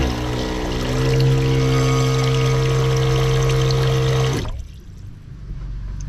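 Water flows steadily from a campervan faucet during a leak test of a home-built van water system, a loud continuous rush with a low pump-like hum that cuts off abruptly near the end, leaving quieter background noise.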